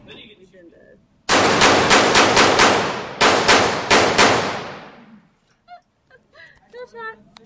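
A rapid string of loud gunshots at a gun range, about a dozen shots fired in quick succession and ringing out briefly before fading; voices are heard softly before and after.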